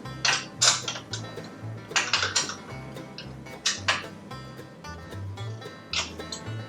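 A wrench tightens bolts on a DeWalt DWE74911 table saw stand, with bursts of metallic ratcheting clicks and clanks in irregular clusters, close and moderately loud over a quiet background.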